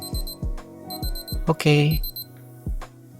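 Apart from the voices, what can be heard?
Casio LF-30W watch countdown timer alarm beeping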